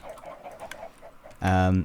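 Soft, rapid clucking from a video game chicken, followed by a louder, tonal squawk at the end; no talking.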